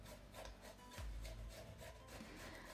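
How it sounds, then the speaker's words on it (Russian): A young zucchini is rubbed down a coarse grater in repeated rasping strokes, a soft scraping rhythm of roughly a stroke every fraction of a second, close and quiet with no talking. "Натираем кабачок на крупной терке."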